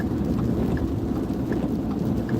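Steady rain heard from inside a car on a dark highway at night, a dense continuous hiss with faint low rumble throughout.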